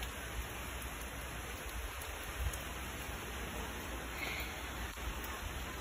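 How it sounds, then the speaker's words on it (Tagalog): Heavy rain pours down outdoors, a steady dense hiss of falling water with no pauses, moderately close and unbroken. "Malakas ang ulan dito."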